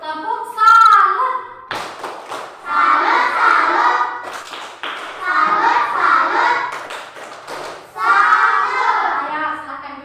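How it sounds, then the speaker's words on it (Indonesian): A class claps out a patterned 'tepuk salut' cheer for group 3, with bursts of rhythmic hand claps broken by children's chanting voices in short phrases. "Kita kasih dulu tepuk salut untuk kelompok 3 ya"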